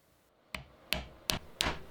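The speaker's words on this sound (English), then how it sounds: "I should have used this hammer a long time ago." A hammer taps guitar frets on a neck in four sharp, evenly spaced strikes with brief ringing decays. It is close and fairly quiet against a hushed background, with no talking.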